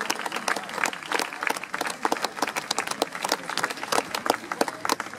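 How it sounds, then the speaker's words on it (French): An audience applauds performers at a show in Estibeaux, Landes, with loud, dense, continuous clapping from many hands that holds steady throughout. "je vous laisse les applaudir encore une fois très très fort"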